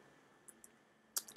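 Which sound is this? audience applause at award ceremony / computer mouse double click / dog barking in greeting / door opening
computer mouse double click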